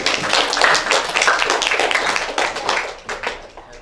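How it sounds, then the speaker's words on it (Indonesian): Students at a university debate event clap for their team, a lively burst of applause that gradually thins out toward the end. "mari kita tepuk tangan terlebih dahulu untuk tim kita"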